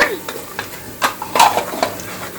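Ginger garlic paste sizzles in a pan with onions and curry leaves for channa masala, with scraping stir strokes and clinks of a spoon against the pan over a steady frying hiss.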